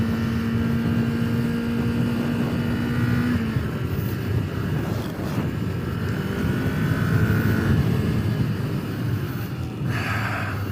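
A Kawasaki Ninja 400 motorcycle being ridden, a steady engine drone mixed with strong wind rush at speed, fairly loud and continuous with brief gusts, no voices.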